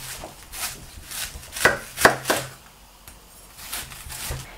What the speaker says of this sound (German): dann wird das Weißkraut in Stücke geschnitten